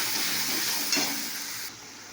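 Onion fries with cumin, turmeric and chili powder after water is added, giving a close, steady sizzle and hiss with a brief stir partway through and no voices.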